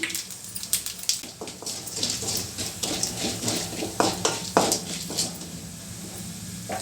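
Tempering spices tipped into hot oil over a medium flame for an okra chutney crackle and sizzle steadily, with light clinks and scrapes of a utensil against the pan breaking through at intervals.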